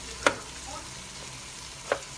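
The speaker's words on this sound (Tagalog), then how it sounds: "It's good to cook the pork first before we put in the eggplants." Pork frying in a pan for a pork giniling and eggplant sauté: a soft continuous sizzle with two brief stirring scrapes, fairly faint and close, no voices.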